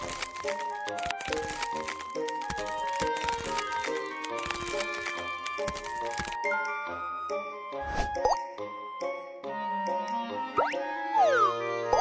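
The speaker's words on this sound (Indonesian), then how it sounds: "Kocok kompres es untuk mendinginkannya." Cartoon sound effects from a Baby Bus children's game as a disposable medical ice pack is shaken: bright plops, rattles and tinkles over a bouncy music bed, followed by rising and falling whistle-like sweeps.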